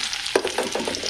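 Garlic hits hot oil in a kadai with a sudden crackle, then settles into a continuous bright sizzle of close, steady frying.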